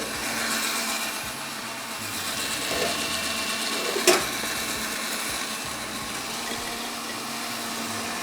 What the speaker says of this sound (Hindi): खूब अच्छी तरीके से ब्लेंड करना है